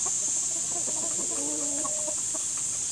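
Pet chickens on a farm in the Philippines cluck softly in a few short, scattered calls, set against a steady, loud high-pitched hiss of background noise.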